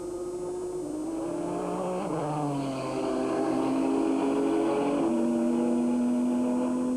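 Le Mans race cars in the 2001 24-hour race, a Chrysler number 16 chasing a Courage Peugeot, engines droning loud and steady with rising and falling pitch as they accelerate and shift.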